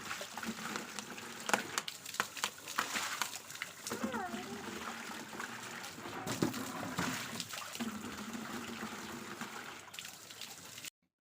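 Water being filled into buckets in a village, splashing and trickling steadily up close while someone talks over it.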